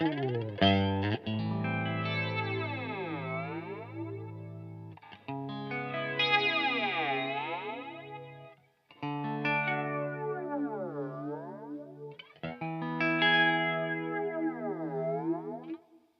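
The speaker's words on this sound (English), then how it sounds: "we're going to have classic flanger with a touch of reverb." Sustained electric guitar chords through a Cuvave effects unit, swept by a slow, whooshing flanger effect, each chord ringing out with reverb before the next strum.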